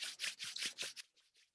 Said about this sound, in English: So rub your hands.